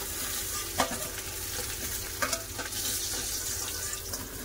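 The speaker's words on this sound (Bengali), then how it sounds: "এরপর মাছগুলো ভালো করে লাল করে ভেজে তুলে নেবো।" Fish frying in hot oil in a wok gives a steady close sizzle with a few sharp pops and scraping stirs, and no one speaks.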